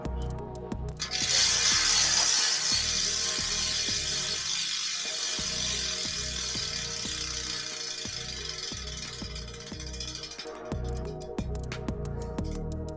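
Rapid ratcheting clicks from a Shimano HG freewheel hub on Rodas CSC carbon wheels, close up and steady, with a hissy whir running through most of the spin before it slows at the end.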